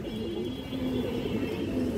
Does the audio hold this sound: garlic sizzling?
no